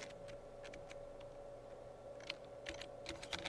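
Soft, steady typing on a computer keyboard for a business letter in Microsoft Word 2007, with irregular clusters of light key clicks and a few sharper taps, quiet and close, with no talking.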